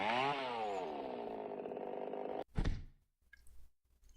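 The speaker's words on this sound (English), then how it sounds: "Chainsaw!" An electric chainsaw in Detective Inaba whines loudly and steadily for about two seconds, then cuts off abruptly into a heavy thunk and a few faint clatters.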